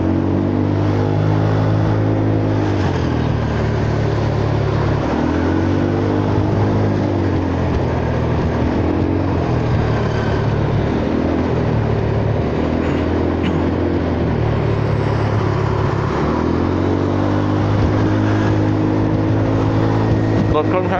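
Honda Forza 300 scooter moving through heavy morning road traffic, with a steady engine drone whose revs rise and fall in repeated swells, loud and close throughout.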